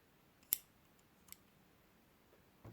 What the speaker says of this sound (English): cut your yarn, leave yourself a nice generous tail